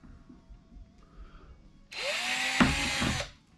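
A power drill bores holes into a fishing kayak, one loud burst of roughly a second and a half that starts abruptly after a quiet stretch, whines steadily as it cuts, then winds down, with no voices.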